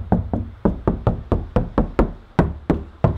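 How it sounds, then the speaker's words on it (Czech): Knuckles rap about a dozen times in an even rhythm on a car door fitted with sound-deadening material, each knock close, loud and dull with a quick, damped decay and no talking. "tady ty dveře už jsou udělaný a zvuk mají asi takovejhle."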